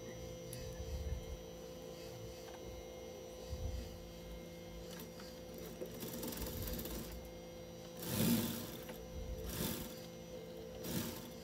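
A sewing machine stitches a summer dress with a steady low hum under a continuous background drone, rising in a few short louder runs toward the end.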